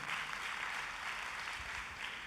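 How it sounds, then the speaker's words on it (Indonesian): A church congregation claps in steady, dense applause that fills the whole moment at an even, moderate loudness, with no speech over it. "Tepuk tangannya pula yang paling meriah buat Tuhan kita."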